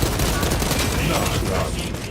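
Rapid gunfire in Space Marine 2, a dense close barrage of shots that rattles loudly without pause for about two seconds.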